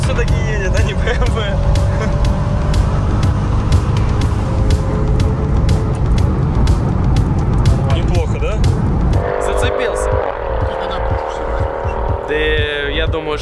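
Mercedes-AMG 63 car driving, its engine a loud steady broadband roar throughout with brief tonal shifts near the end; people talk over it.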